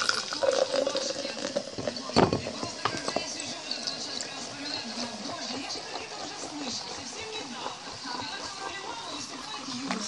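Pepsi-Cola pours from a 2.25-litre plastic bottle into a large half-litre glass, giving a fizzy, gurgling splash with a few bubbling bursts near the start that settle into a steady hiss and crackle of carbonation.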